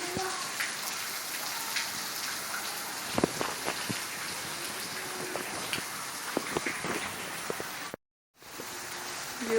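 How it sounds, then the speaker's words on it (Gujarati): Heavy rain pours steadily outdoors as a dense, constant hiss with scattered louder drop impacts, broken by a brief dropout near the end. "જુઓ કેવો વરસાદ આવે છે"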